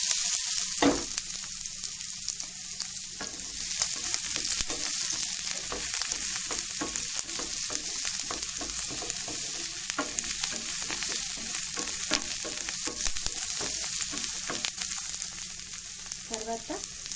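Onion pieces fry in oil with a continuous, fairly loud sizzle, broken by frequent rhythmic scraping and stirring strokes of a utensil against the pan. No one speaks.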